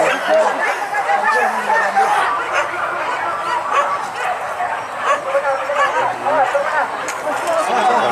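Hunting dogs at an outdoor hunt in Batu Basa bark and yip continuously, some whimpering between sharp barks. A lively crowd chatters and laughs throughout, close and loud.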